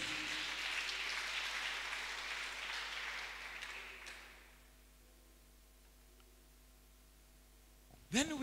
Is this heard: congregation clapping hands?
yes